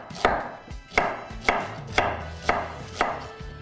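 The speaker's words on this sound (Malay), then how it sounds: "Kita potong bawang pun wedges juga." A knife chops onion into wedges on a board: six crisp, evenly spaced cuts about half a second apart, close and clear, with no talking.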